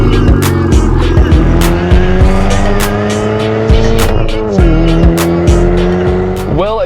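A modified Chevrolet Camaro drives with a loud, close engine drone that rises and falls through gear changes, with steady tire and road noise and no talking.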